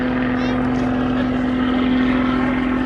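A propeller aircraft flies slowly at a summer air show at Duxford, its engine a loud, steady drone with a strong low hum throughout, heard close and without break.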